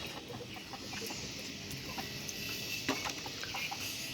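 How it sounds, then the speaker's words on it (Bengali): Several Fayoumi hens cluck and murmur close by in a steady barnyard chatter, with a few sharper clucks standing out. "এই যে ডিম আর এই যে মুরগি"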